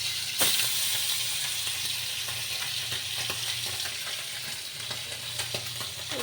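Tangra and borli fish frying together in a pan: a loud, constant sizzle and hiss with scattered sharp spatters and an occasional stir, heard up close without voices.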